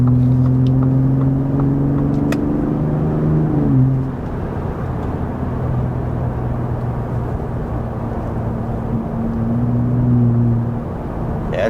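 A 2023 Ford F-150 Raptor's exhaust in Baja mode drones loud and steady as the truck accelerates, the engine note rising and then settling back into a sustained roar with no talking over it.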